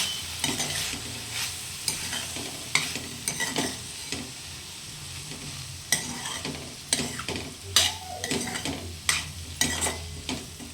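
Spiced beans stirred and mixed in a pan, a low sizzle under frequent, irregular spatula scrapes and knocks against the metal, close and distinct, with no voices.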